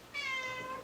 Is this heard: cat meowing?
yes